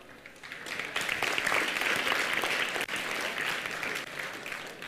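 Audience applause at a Hindi lecture on process and goals, a sustained, dense clapping from a crowd that starts moderately, builds to a full even roar and carries on with a brief dip midway.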